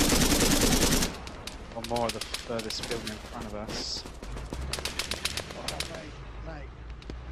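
Gunfire in Arma 3 crackles in rapid bursts after an opening blast, with shots near and far while someone talks over the firing.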